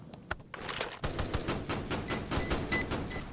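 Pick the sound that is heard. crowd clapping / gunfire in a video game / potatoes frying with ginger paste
gunfire in a video game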